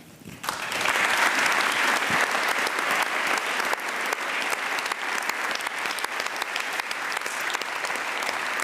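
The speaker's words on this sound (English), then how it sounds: "So I'd like to have a big applause for him." Sustained applause from a large audience at a Team Jumbo-Visma 2023 team presentation, steady and loud for several seconds after a brief quieter start, with no talking over it.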